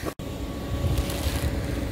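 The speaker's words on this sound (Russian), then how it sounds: "ветер, ветер." Gusty wind buffets the microphone in an outdoor park with rides, a steady, loud, low roar that rises after a brief dropout near the start, with no talking.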